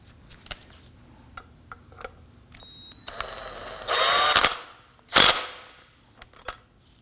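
A power tool snugs down a bracket bolt on a Nissan Murano, with a short whirring run followed by a sharp burst, between scattered clicks and taps from the work.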